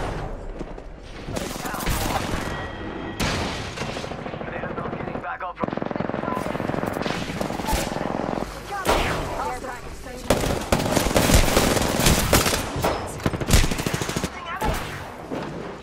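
Gunfire in Apex Legends: dense bursts of automatic shots and heavy impacts, loud and nearly continuous, with brief gaps, while a voice talks over the battle.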